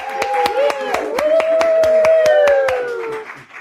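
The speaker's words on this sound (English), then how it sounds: "can you give a huge round of applause for Christine?" Scattered hand claps from an in-house audience at a book launch, about a dozen sharp claps in an uneven rhythm, heard under a sustained voice.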